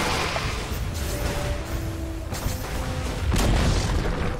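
A tower collapses in Dota 2 with a deep booming explosion that rolls out under the steady game sounds and music, punctuated by a heavier thump near the end.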